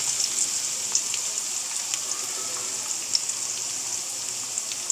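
Chopped garlic and ginger sizzle in hot oil in a pan, a close, steady frying hiss scattered with small pops and crackles, with no talking.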